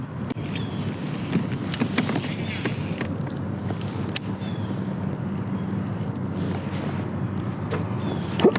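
Wind blows steadily across a lake on the windward side during a fall fishing outing, a constant rumbling gust with microphone buffeting and occasional creaks and clicks from gear nearby.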